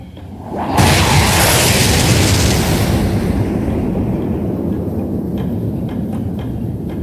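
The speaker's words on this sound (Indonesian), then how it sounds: "Ledakan dahsyat." A massive explosion bursts in suddenly and rolls into a long, loud rumbling roar that slowly fades but keeps booming throughout.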